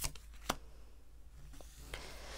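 Tarot cards being shuffled and drawn, heard as a few quick papery snaps and riffles spaced across a quiet room, close and fairly faint with no talking.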